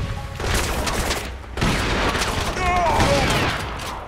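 A grenade explosion and gunfire in the shooter video game Crysis, a heavy blast followed by a rumbling burst of shots, loud and close with a short quieter gap between.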